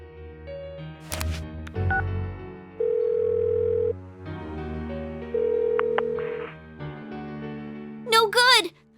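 A phone call in Persona 4 Golden: dial tones and beeping key presses, then long, steady ringing tones that repeat, followed by a brief burst of warbling electronic sound at the end. The tones are loud and clean.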